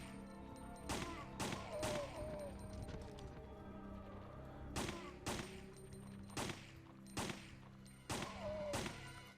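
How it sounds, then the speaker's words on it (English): Pistol gunfire in the Resident Evil video game, several sharp broadband shots spaced irregularly over steady game ambience and music, each a loud close crack with a short decay. "the first shot we make with this pistol"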